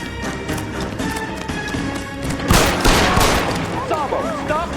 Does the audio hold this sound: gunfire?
yes